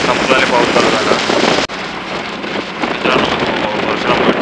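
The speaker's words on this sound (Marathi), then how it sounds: "पाऊस चालू झाला आहे" Rain falls outdoors by the Mumbai–Goa highway as a loud, dense, steady hiss. It drops abruptly in level partway through, then continues.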